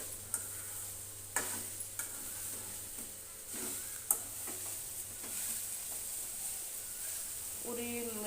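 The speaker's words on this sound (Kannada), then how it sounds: "ಹಾಕಿ ಇದು 2 ಕೂಡೆ ಮಿಕ್ಸ್ ಮಾಡ್ಕೋತಾ ಇರಬೇಕು" Grated coconut and sugar stirred together in a pan over a gas flame, with soft scraping strokes and a few sharper spoon knocks against the pan under a steady hiss, all fairly quiet.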